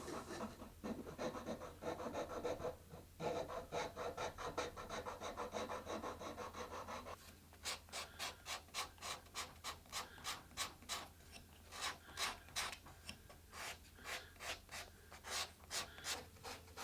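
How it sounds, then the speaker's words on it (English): Steady rasping strokes of a file and rasp shaping a wooden guitar neck, continuous at first, then breaking into a quick regular rhythm of separate scrapes, close and clear. "you can keep working at your volute and at the transitions using small files and rasps"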